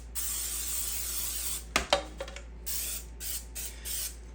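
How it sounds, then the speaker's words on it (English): Bursts of aerosol nonstick cooking spray hiss close by onto a 9-inch springform baking pan, a long spray followed by a few clatters and several shorter repeated spritzes. "let's go ahead and spray with some nonstick spray."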